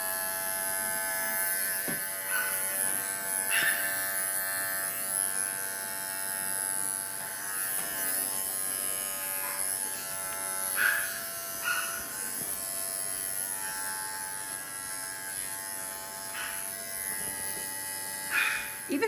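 Electric clippers buzz steadily and close up while doing a sanitary trim on a schnauzer, with the pitch wavering slightly as the blade moves through the fur and no one talking.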